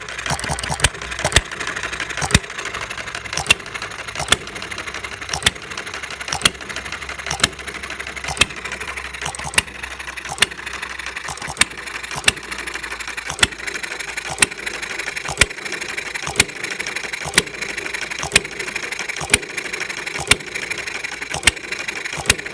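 A 1/3 scale Breisch Hired Man hit and miss engine runs with a cold cylinder, its sharp firing pops and clicks repeating steadily and close, loud and alone with no talking.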